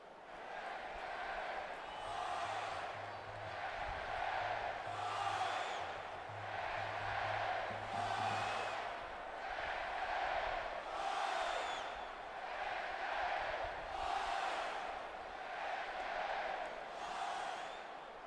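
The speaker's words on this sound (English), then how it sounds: "you can feel the thunder in the crowd as they await the start of this game" Stadium crowd in a football video game, a BCS National Championship under a closed retractable roof, roaring before kickoff in steady rolling waves that swell and fade every couple of seconds, broad and sustained, with a faint low tone underneath.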